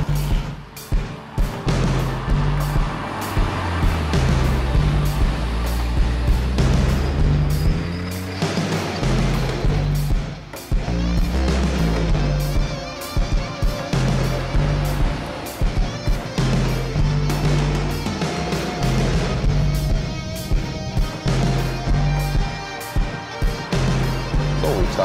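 A 2015 Volkswagen Scirocco R with a 280 hp engine, heard while driving: a loud, continuous engine drone rising and falling with throttle, close and steady throughout.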